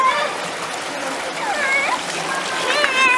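Children wash a carpet in very cold water outdoors in Tajikistan, with continuous splashing and running water and high children's voices calling and chattering throughout.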